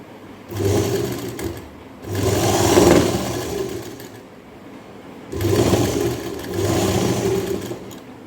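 A sewing machine runs close by, stitching a straight line on a purse made from blouse material, with its whirring motor heard in several bursts of a second or two each, separated by short pauses.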